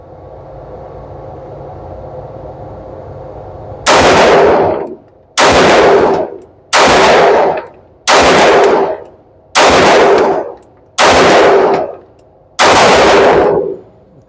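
Pistol shots from a Canik TTI Combat or Sig P365 fired at targets ring out seven times at a steady, deliberate pace. Each report is loud and sharp and decays quickly over a quiet background.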